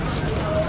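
Light rain falls on the first rainy day in Dadar, Mumbai. A brief, close, steady patter of drops is heard over a street hum.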